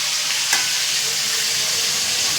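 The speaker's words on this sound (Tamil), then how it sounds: "அந்த தக்காளி பழத்தை அது கூட போடணும் போட்டு நல்லா வதக்கணும்" Chopped tomatoes sauté in a pan for a Kanyakumari country chicken curry, making a constant loud frying sizzle with one brief tap of the spoon early on and no voices over it.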